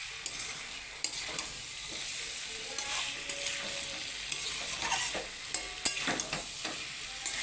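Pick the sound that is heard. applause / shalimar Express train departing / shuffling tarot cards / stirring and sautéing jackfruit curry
stirring and sautéing jackfruit curry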